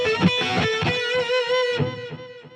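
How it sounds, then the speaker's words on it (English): Heavily distorted electric guitar through Satch Track neck and Mo' Joe pickups, thick and saturated, ringing chords that sustain and slowly fade toward the end. "And then you go full on distortion."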